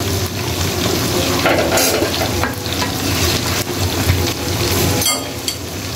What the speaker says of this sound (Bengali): তারপর এটাকে ভালো করে একদম ফ্রাই করে নিব।